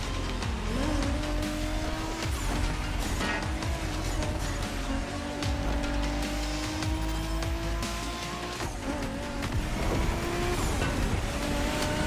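Tires squeal long and loud as a car drifts against Japanese drift masters in The Crew Motorfest, engine roaring steadily beneath the sustained screech.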